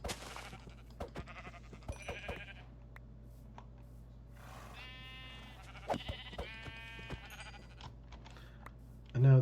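Sheep bleat in the video game Minecraft, with several short wavering bleats scattered through a quiet background hum and an occasional soft click.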